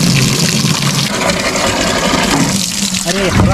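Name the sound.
running water being poured for drinking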